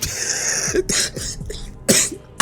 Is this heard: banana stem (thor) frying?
no